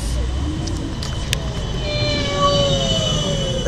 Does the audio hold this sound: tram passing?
yes